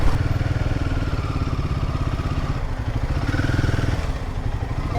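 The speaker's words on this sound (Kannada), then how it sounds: "Himalayan 450 is the first ever liquid cooled engine and throttle response ಕೇಳಿದ್ರೆ ಇಟ್ಸ್ ಅಮೇಝಿಂಗ್" A Royal Enfield Himalayan 450 with its liquid-cooled engine idles close by, a loud, steady, rapid thumping pulse with a brief dip in the middle and an even rhythm throughout, no talk.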